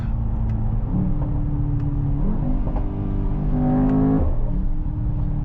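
Mercedes-AMG GT 63 S E Performance hybrid accelerating hard, its engine rising in pitch and then dropping sharply at each gear change, heard close up inside the car.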